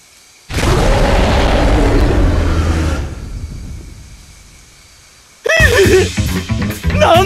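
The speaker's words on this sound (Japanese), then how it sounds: "魔物の声。" A monster's cry in the Tales of Crestoria video game: a loud, rough, roaring burst lasting a few seconds that fades into a low rumble, followed by a sharper, tonal screech-like call.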